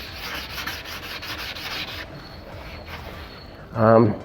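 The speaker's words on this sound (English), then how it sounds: "another day full of sanding" Rhythmic rubbing strokes of sanding scrape across a jet ski surface for a couple of seconds, then fade, followed by a brief louder thump.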